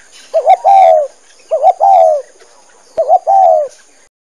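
Pigeon cooing in three separate bursts, each a short warbling double note followed by a longer rolling coo, loud and close against a quiet background.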